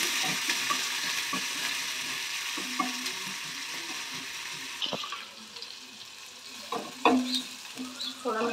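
Chopped onion fries in a pan of hot oil, giving a steady moderate sizzle with occasional stirring clicks and scrapes, close by and without voices.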